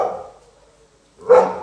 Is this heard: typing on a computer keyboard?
no